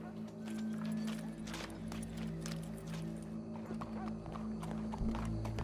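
Horse hooves clip-clop at a steady pace in Red Dead Redemption 2, carried under continuous ambient game sound with low background hum and faint voices.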